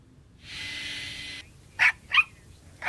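A small dog reacts to a leaf blower: a steady blower-like hiss runs for about a second, then stops, followed by three short, sharp dog barks or yelps spaced apart, fairly close and clear.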